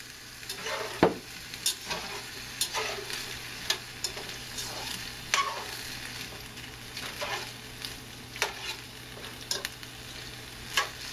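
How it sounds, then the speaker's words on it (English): Chicken frying in a pan with soy sauce added, a steady close sizzle broken by repeated clicks and scrapes of stirring, with no talking. "Fry this for a little while. And add the soy sauce."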